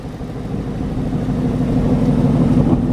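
A 2018 Ford Mustang GT Roush Stage 3 engine runs with a close, steady, low rumble, a smooth idle that holds even throughout.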